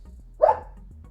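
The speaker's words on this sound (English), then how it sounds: "but that's my dog." A single short dog bark, clear and fairly close, rising over a quiet low hum.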